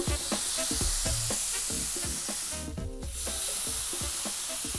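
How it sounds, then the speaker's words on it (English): Carne asada sizzling fast in a very hot pan, a loud steady hiss and crackle with rhythmic stirring or scraping knocks close by, briefly dipping midway. "now we can fry our meat"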